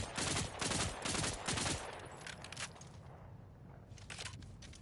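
SMG fire in Borderlands 4 comes in loud, rapid automatic bursts, a few tight rattling strings of shots that thin into scattered softer pops toward the end.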